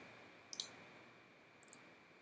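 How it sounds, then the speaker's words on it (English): A computer mouse gives two quick right clicks with a pause between them, each a faint, close double tick over a quiet room hum. "If I right click here and right click once more"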